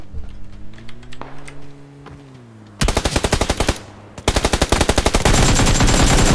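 Automatic rifle fire in the battle-royale game PUBG, an AK-type weapon, bursting in loud, rapid strings of shots after a low engine drone from a passing vehicle, with a second sustained volley near the end.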